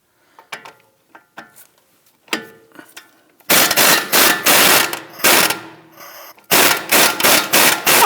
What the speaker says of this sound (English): We're now going to go ahead and loosen and remove our knuckle to strut bolts.